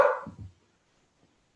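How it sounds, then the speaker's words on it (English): A hound dog's howl at passing sirens trails off over about half a second, then silence follows. "our hound dog always has to howl at the sirens."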